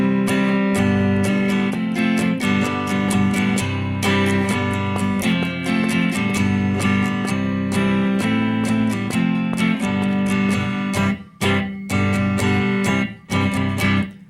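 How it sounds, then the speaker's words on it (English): A guitar strummed in a steady straight-ahead 4/4 feel with down and up strokes, loud and continuous for the whole stretch, with brief breaks near the end and no talking. "Musicians refer to this feel as a straight-ahead 4/4 strum"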